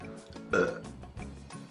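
A single deep, rumbling burp swells up loud and then trails off over about a second, with softer throaty noise before and after.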